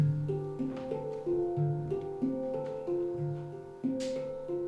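A short run of five plucked notes played in sequence, repeating in a steady pattern, moderately quiet with no talking.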